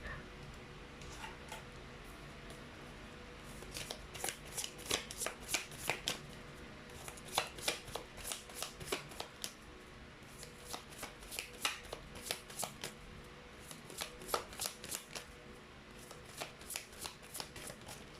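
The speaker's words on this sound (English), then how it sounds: "let's try to pull up more cards" Tarot cards being shuffled and handled up close, a series of crisp riffling snaps and soft slaps in irregular bursts over a low steady background hum.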